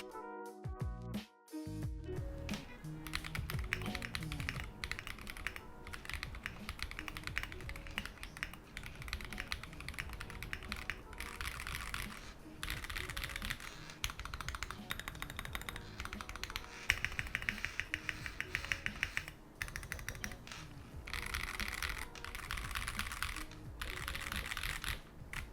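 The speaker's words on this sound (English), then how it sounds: "The typing experience is really great" Continuous clacky typing on an Akko ACR Pro 68 mechanical keyboard, rapid keystrokes in bursts with brief pauses, close and clear with no talking.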